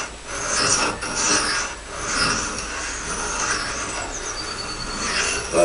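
An axe edge is worked over a sharpening stone, giving a steady, close, broadband rasping scrape in continuous overlapping strokes, with no talk.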